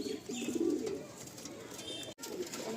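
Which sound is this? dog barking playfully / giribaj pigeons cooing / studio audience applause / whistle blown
giribaj pigeons cooing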